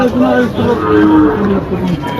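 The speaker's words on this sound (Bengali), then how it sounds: "এই হাটে সব ধরনের গরুই উঠে" Cattle low at a busy cattle market, with a long, loud bellow close by that holds through most of the moment while crowd noise murmurs underneath.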